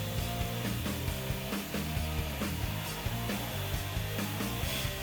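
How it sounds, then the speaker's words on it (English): A cup-style wire brush on a power tool grinds steadily against a truck bed, stripping surface rust and cracked paint with a continuous harsh abrasive whir and brief scraping surges, close up with no talk. "this cut brush does a great job of removing surface rust and cracked out paint and stuff like that"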